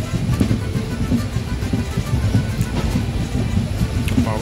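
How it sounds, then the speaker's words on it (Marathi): Konkan Railway passenger train pulling out of Kankavli station, a steady low rumble and rattle of wheels and carriages heard from on board, continuous and fairly close throughout, with faint voices in the background. "ट्रेन आपली निघाली कणकवलीवरून"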